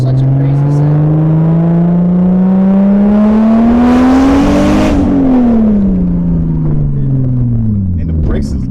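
Turbocharged 2JZ-swapped BMW E30 with a 3-inch straight exhaust to a Vibrant muffler, engine revving up in a rising whine, peaking and then falling back, loud and close.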